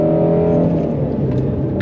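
Final Edition Mustang Shelby GT350R Heritage: its loud exhaust rumbles close up with a strong tonal drone that eases slightly as the revs settle, alone without talk.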